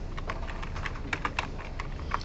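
Students type on computer keyboards during a lecture, an irregular flurry of soft clicking keystrokes with a few sharper taps, steady and close against a muffled room background.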